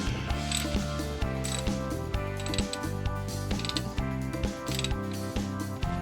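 A hand ratchet tightens a starter bolt under a car. It clicks in a continuous run of close, rhythmic ratcheting strokes with a faint metallic creak, and no one talks.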